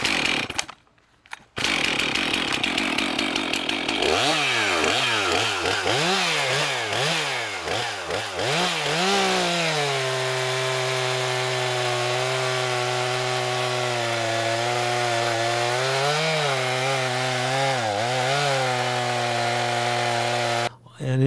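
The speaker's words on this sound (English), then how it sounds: "we're gonna see how it works here on this gum log" A STIHL MS-362C chainsaw running a HEXA Rapid Super chain on a 20-inch bar: a loud buzzing rev-up, then a steady, strained drone as it bites into a gum log, with small pitch dips while cutting.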